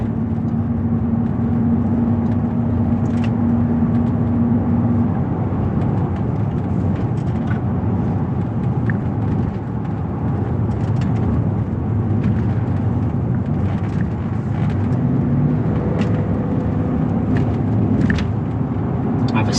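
Cooper Discoverer AT3 tires rolling on a 2007 Land Rover Range Rover at about 45 mph, a steady low road roar and cabin hum with faint ticks over it, constant and close, under someone talking.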